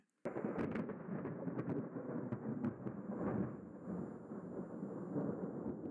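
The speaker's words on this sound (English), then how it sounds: "just in time to capture a rare close strike of bead lightning" A rare close bead lightning strike during a tornado-chasing storm sets off thunder that cracks sharply, then rolls and rumbles heavily for several seconds, loud and near.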